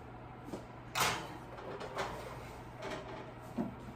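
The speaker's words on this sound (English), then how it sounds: "So now that these are all on here, we are going to put them in the oven." Baking trays of hardtack being slid into a home oven: a few soft metallic clunks and scrapes with one sharper knock, under a steady low appliance hum, no talking.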